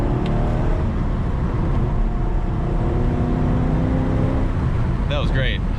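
A 2004 Corvette C5 with a six-speed manual drifts on a wet mountain road. Its engine holds a loud, steady high-rev drone close by, with a short squealing chirp near the end and a voice faintly underneath.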